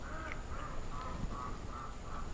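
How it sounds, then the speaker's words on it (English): A neighbour's ducks quack in a steady series of about six nasal calls, fairly distant and faint over a constant background hum, with no talking. "Do you hear the duck?"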